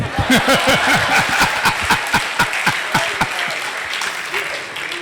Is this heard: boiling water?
no